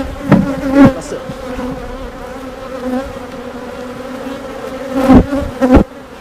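Honeybees drone loudly and continuously around an open hive in a red-painted box during an early May full inspection, with several bees zipping close past in louder swells over the steady hum.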